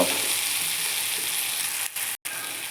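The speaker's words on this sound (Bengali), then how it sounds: "এখন আমি অল্প সময় এই সবটিকে ভেজে নেব।" Garlic and ginger paste fry in a hot pan with a steady, close hiss and crackle, broken by two brief gaps near the end.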